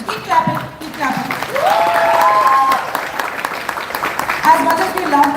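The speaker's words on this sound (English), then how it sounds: "So keep clapping, keep clapping." An audience at a film panel discussion claps steadily throughout, with a speaker's voice talking over the applause at moments.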